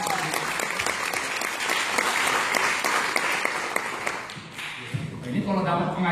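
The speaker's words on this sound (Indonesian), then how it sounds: "Beri tepuk tangan dong." A sermon audience applauds, dense sustained clapping across the room that thins toward the end as a voice begins speaking.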